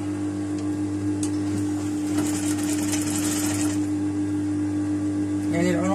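Sewing machine stitching fabric for a pajama gown, a steady mechanical hum with rapid stitching bursts, close and loud, while a person talks over it.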